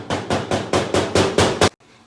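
An egg is rapped hard against an edge eight times in quick, even succession while instant noodles are being made in a kids' kitchen, and the loud close knocks stop abruptly.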